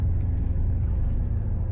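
A 2025 Denali truck engine rumbles while driving down the road, a steady low drone of engine and road noise heard from inside the cab, with no talk over it.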